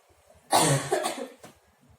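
A single loud, harsh cough erupts close by, followed by a short second burst, then quiet.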